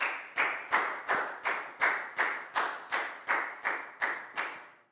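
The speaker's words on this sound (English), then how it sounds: "Big round of applause for Lakgao, please, guys." A Year 4 math class claps in unison, about a dozen sharp, evenly spaced claps in a steady rhythm, fairly close, with no talk over them.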